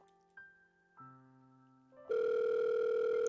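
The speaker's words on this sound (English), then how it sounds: "the phone's ringing noise tings through my ear" Phone ringing tone heard through an earpiece: a few steady electronic tones shift in pitch, then a loud continuous buzzing ring tone sounds alone from about two seconds on, with no talking.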